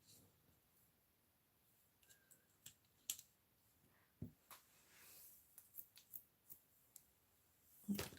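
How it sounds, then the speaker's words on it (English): Paper backings peeled one after another off small card pieces for a Paper Pumpkin Hearts For You kit, giving soft tearing rips and light crinkly taps, close and quiet with brief pauses between pulls. "now I'm going to remove these paper backings."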